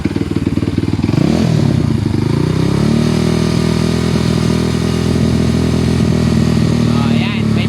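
A motorcycle engine is revved up from idle and held at a loud, steady high speed, close to the listener, during a battery and charging-voltage check.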